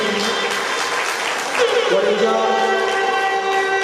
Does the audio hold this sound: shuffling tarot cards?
no